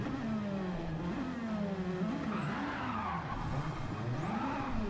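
Race cars in a racing video game roaring off the start line together, a dense, steady engine drone with rising and falling revs and a faint tire squeal, loud and continuous with no talk over it.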